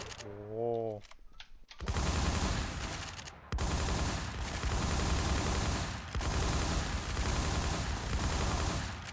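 Dense, sustained automatic gunfire from an online shooter game, loud and continuous for most of the stretch after a brief opening, with a short break partway through.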